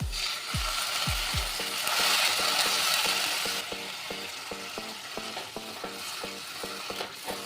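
Onion and spice masala fries in a pan with a broad, steady sizzle, joined by rapid rhythmic clicking and scraping from stirring, close up.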